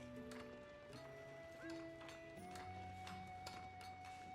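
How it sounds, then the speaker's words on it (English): Horse archer hooves from the Age of Empires IV video game, in a Rus versus English match, give a quick, uneven clip-clop over sustained in-game music tones. The hoofbeats come at moderate volume in short bursts. "Here he comes again with his horse archer."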